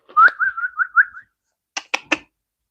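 A person whistles a short warbling tone that wavers up and down, then after a pause comes a few quick separate chirps, clear and close in a quiet room.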